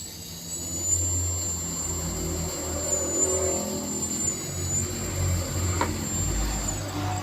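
Small brushed motor of an MJX Bugs drone whirring steadily at full throttle during ESC calibration, with a thin high whine held for several seconds, close and alone.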